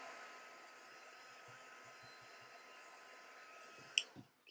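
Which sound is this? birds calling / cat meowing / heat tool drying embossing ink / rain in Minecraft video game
heat tool drying embossing ink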